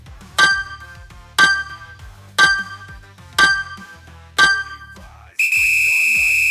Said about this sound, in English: Here comes that timer.